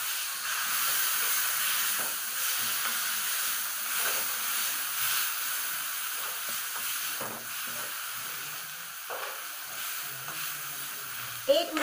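Tomato puree fries in a pan with a steady, close hiss and sizzle, punctuated by occasional stirring scrapes and faint background voices.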